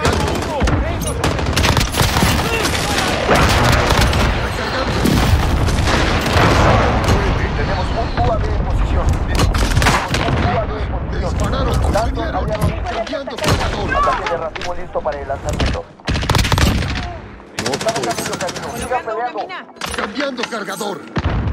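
Video game air strike with dense explosions and rapid gunfire, a loud continuous barrage of blasts and bursts filling the whole stretch, briefly thinning near the end.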